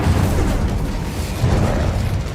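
The Incendio fire spell from the video game Hogwarts Legacy, a loud, sustained roaring blast that holds steady for over two seconds with a dense low rumble and no talk over it.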